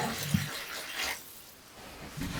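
Warm water splashes into a bowl of flour, yeast and olive oil for focaccia dough, a short close pour that surges, dips briefly and picks up again.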